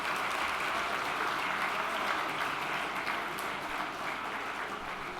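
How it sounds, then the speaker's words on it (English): Dense, sustained applause from an awards-ceremony audience at the Asian Awards, steady and loud throughout without a break. "give the ladies a round of applause"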